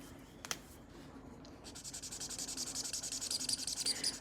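Arteza Everblend art markers squeak across paper while portrait tones are swatched, a close, faint run of rhythmic squeaky strokes over a low dishwasher hum.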